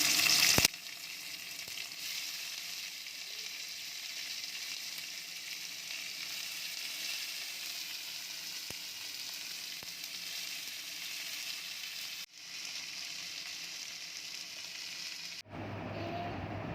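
Garlic and chopped tomatoes fry in a pan with a continuous close sizzle and faint stirring scrapes, holding steady with brief dips near the end; no voices.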